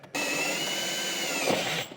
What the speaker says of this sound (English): Go ahead and drill it and then pry it out.